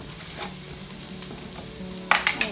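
Garlic and dried oregano cook in a pan for a puff pastry pizza pie filling, with a soft sizzle under stirring and a few sharper scrapes near the end.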